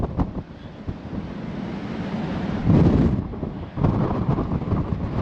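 Strong, cold wind buffeting the microphone on a cruise ship deck in port, a steady loud rushing roar with gusts swelling around the middle, no voices.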